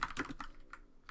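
Rapid typing on a computer keyboard, a quick burst of several close, crisp key clicks in uneven rhythm, heard alone.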